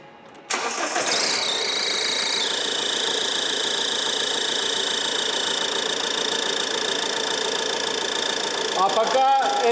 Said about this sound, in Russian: заводим и даем поработать двигателю 15 минут